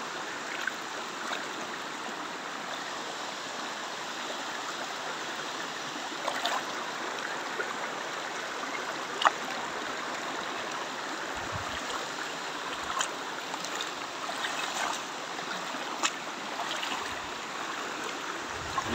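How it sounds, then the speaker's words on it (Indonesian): A fast-flowing mountain river stream on a volcano slope, a continuous broad rushing of water with occasional faint knocks and splashes, no talking. "Airnya deras, jadi agak sulit."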